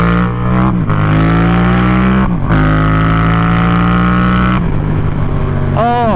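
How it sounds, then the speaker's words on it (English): A tuned four-cylinder superbike engine revs loud and close, with several rising and falling throttle blips over a steady drone and a sharp rev at the end, and no clear pops standing out. "Now we got a little bit of backfiring."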